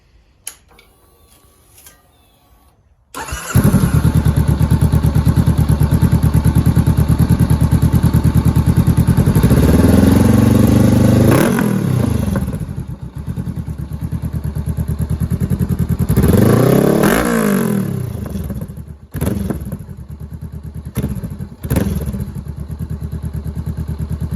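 A warmed-up 2019 Honda CBR500R with a Coffman's shorty exhaust starts from quiet into a loud, steady idle, then revs up twice in rising and falling sweeps, followed by a few sharp blips, all close and with no speech.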